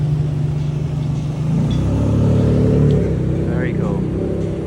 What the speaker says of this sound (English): just a casual Ferrari Enzo driving by.